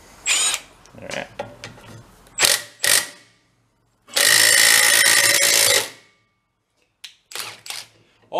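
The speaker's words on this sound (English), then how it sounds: "Let's go get ourselves a wrench on that. Crank that down and see if we can get her to pop." A wrench cranks down on an old Harley golf cart transaxle in a scrap-yard repair, with several short bursts of ratcheting and clicking, a sustained loud whirr of about two seconds, then more brief clanks up close.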